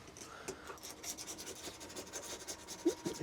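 A scraper rasps repeatedly across an RV sink as old silicone is scraped off, quiet and close, in short rhythmic strokes with a few small knocks near the end.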